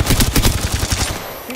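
Rapid automatic gunfire rattles in an Apex Legends match, loud and close, a fast burst of about a dozen shots lasting over a second before cutting off.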